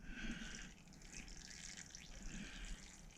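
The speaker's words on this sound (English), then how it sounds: "tilt the bike over to get the oil that was trapped on the other side" Engine oil drains from a tilted motorcycle during an oil change, a faint steady trickling pour that runs without a break.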